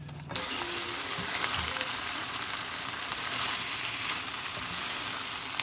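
Ground beef and potatoes with fresh basil sizzling loudly in a pan as they are folded together, a dense continuous frying hiss with faint scraping and stirring beneath, starting abruptly after a brief quiet moment.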